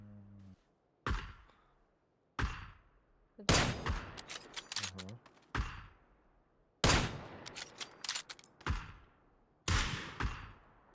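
Gunfire in PUBG squad play, loud sharp shots in separate bursts and single reports that ring out and fade, with quiet gaps between volleys and no talk over them.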